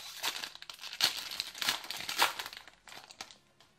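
A Yu-Gi-Oh booster pack wrapper torn open and crinkled up close: a run of sharp rips and crackling foil rustles in quick, uneven bursts, fading toward the end.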